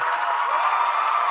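A studio audience on a sports talk show breaks into a brief burst of steady applause and cheering, a dense close wash of clapping with no distinct voices.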